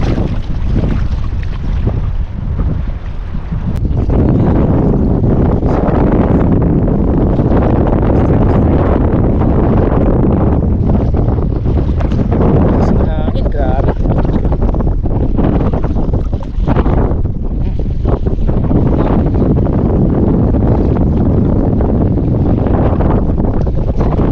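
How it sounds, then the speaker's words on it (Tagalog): Strong wind roars constantly over open water at a fishing spot, loud buffeting rumble across the microphone with gusty surges and no speech. "lakas ng hangin"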